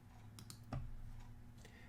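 Keys on a computer keyboard are tapped in a few quiet, quick clicks, with one slightly louder press, in an otherwise still room.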